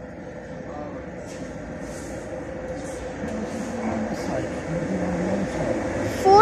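A train pulls into a station platform at Regent Centre, its low rumble and hum swelling steadily closer and louder, with a brief squeal at the end and a voice speaking nearby.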